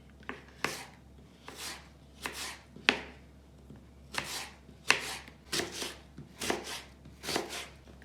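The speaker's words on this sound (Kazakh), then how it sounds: "Енді алмамызды тураймыз." A knife chops an apple into thin strips on a board, about a dozen crisp, evenly spaced cuts close by and moderately loud, with quiet gaps between strokes and no speech.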